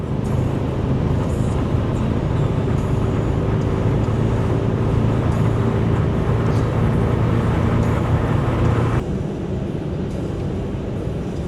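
Steady, loud road and wind roar inside a car travelling fast on a German Autobahn, a constant rumbling drone with a slight drop near the end and no talking.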